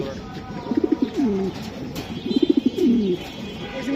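Racing pigeons cooing close by, two clear bursts of throaty rolling coos over a low background hum.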